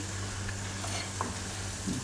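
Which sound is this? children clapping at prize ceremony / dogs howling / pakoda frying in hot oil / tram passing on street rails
pakoda frying in hot oil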